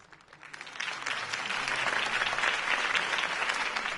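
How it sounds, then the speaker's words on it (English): Crowd applause swells after a campaign speech for Harvey Dent in the video game Batman: The Telltale Series, a dense, steady clapping that builds in the first second and then holds loud and continuous with no talk over it. "If only Mr. Wayne, my campaign's largest backer, could have heard that applause"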